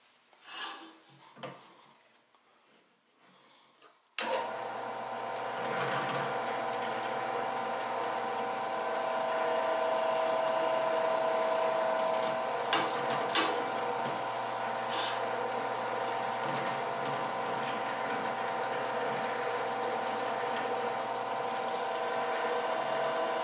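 A drill starts abruptly and runs continuously, a loud grinding whine as it bores through parts held in a jig, after some brief quiet handling noises.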